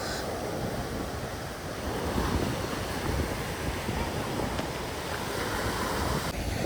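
Steady roar of sea waves washing ashore at Trikkannad, Kasaragod, broad and continuous with wind rumbling across the microphone.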